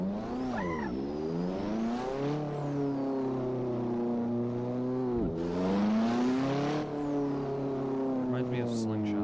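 Simulated car engine in the Assetto Corsa racing game revving and swooping up and down in pitch while drifting, loud and steady, with a brief dip midway and a voice talking over it.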